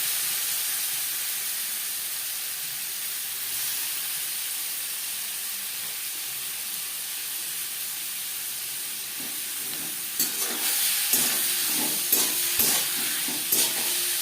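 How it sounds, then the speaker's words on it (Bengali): Shrimp fry with salt in a pan over a high-to-medium flame, a steady, close sizzling hiss throughout, joined near the end by a few sharper clattering stirs. "হাই টু মিডিয়াম ফ্লেমে চিংড়ি মাছ হালকা করে ভেজে নেব"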